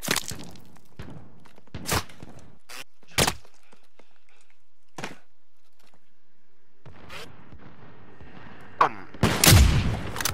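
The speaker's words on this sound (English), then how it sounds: "Where am I getting shot from?" Gunfire rings out in a Call of Duty zombie royale match: sharp, separated shots crack at irregular intervals, some near and loud, with a louder cluster of rapid shots near the end.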